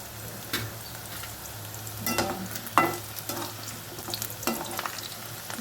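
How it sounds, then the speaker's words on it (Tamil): Garlic sautéing in oil in a pan, a soft steady sizzle with occasional stirring clatters, close and moderately quiet, no talking. "நல்லா பூண்டு வதங்கிருச்சு."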